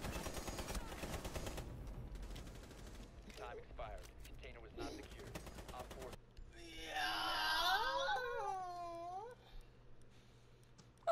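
Gunfire in the Rainbow Six Siege game crackles in rapid bursts under players talking over voice chat, followed by a warbling, wailing game sound effect.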